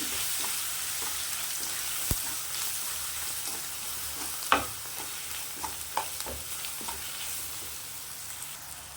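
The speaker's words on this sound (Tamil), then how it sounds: "தூள் நல்லா இந்த எண்ணெயிலே வதக்கி விடுங்க" Egg masala and coriander powder sautéing in hot oil, giving a steady low sizzle with occasional soft clicks and scrapes of a stirring spoon against the pan, close and alone.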